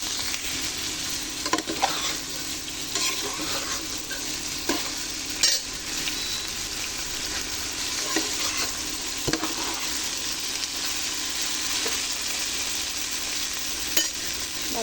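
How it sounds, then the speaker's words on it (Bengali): Pieces of elephant apple (chalta) fry in hot oil in a pan for pickle, giving a steady, fairly faint sizzle broken by occasional scrapes of stirring, with no voices. "অবশ্যই তেলের মধ্যে চালটাকে ভালো করে ভেজে নিতে হবে।"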